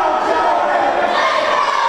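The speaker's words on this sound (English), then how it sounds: "This crowd is hot here tonight" An indoor wrestling event crowd roars and chants in a sustained loud wash of voices, with no clear individual speech on top.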